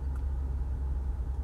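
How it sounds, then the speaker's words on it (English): Steady low engine rumble from an Infiniti FX45 cruising at night around 1 a.m., a continuous even drone with road noise and no voices. "taking the car out, going for a drive."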